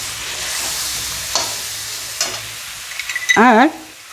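Fennel powder, ginger and turmeric frying in a pan are stirred with a spoon, bringing soft sizzling, a few sharp scrapes and clinks, and a short squeaky scrape at the end, close and fairly loud with no talking.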